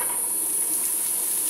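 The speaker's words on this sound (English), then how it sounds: "That's what we want to hear, sizzling." Onions sizzle in hot oil in a frying pan while an omelette is being made, giving a steady, close, bright hiss with no talking.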